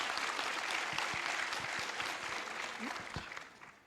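An audience at a school board of education meeting applauds an honoree, a steady wash of clapping that gradually fades toward the end, with a few faint voices underneath.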